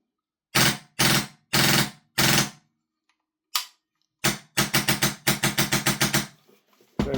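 Wolverine MTW AK105 airsoft rifle fired close up and loud: four separate single shots, a pause, then a fast string of about ten rapid shots trailing off.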